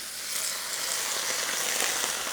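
Water hits a very hot stir-fry pan to deglaze stuck-on food, and a loud, steady hiss of sizzling follows, close up and continuous, with no voices.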